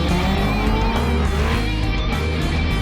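A loud race car engine roars continuously during a circuit race, with sustained high-pitched tones shifting slightly as it passes, dense and steady throughout the short stretch.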